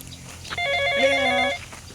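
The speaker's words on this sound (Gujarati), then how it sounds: "તારમાં કોનો ફોન આવ્યો?" A telephone rings once with a short, bright, tonal burst of about a second, close and clear against a quiet room.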